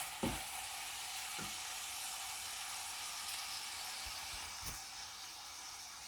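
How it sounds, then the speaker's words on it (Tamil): Mustard seeds frying in hot oil for a broccoli and dried shrimp stir-fry, a steady, fairly faint sizzle and hiss with a few sharp pops scattered through it. "போடுவோம் கடுகு நல்ல பொரியட்டும்."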